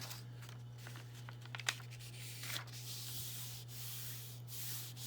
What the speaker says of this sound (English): Just rub this over, try to get some of this paint up.